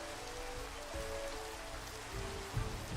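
Rain in the video game Minecraft, a soft, steady patter of falling drops with faint low thumps, quiet and continuous with no voices.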